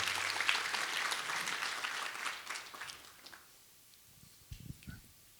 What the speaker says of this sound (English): If we can give a round of applause, please